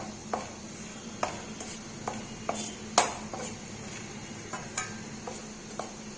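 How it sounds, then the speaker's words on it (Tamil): Rice flour being dry-roasted for Navaratri rice puttu and stirred in a pan, giving a steady run of light scraping clicks and occasional sharper taps of the spoon against the metal over a soft sizzle, close and fairly quiet. "மாவை இதில் கொட்டியிருக்கேன் இதில் கொட்டினதை நல்லா வறுத்துக்கலாம்"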